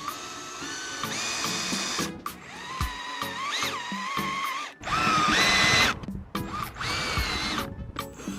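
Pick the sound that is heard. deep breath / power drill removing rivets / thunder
power drill removing rivets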